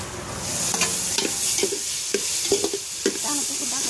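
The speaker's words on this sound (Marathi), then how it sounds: "टोमॅटो कापून घेतलेले टोमॅटो टाकते" Chopped tomatoes go into a frying pan of chana masala, made in a big batch for 20 to 25 people, giving a steady close sizzle broken by scattered spoon scrapes and stirring clinks, with no talking.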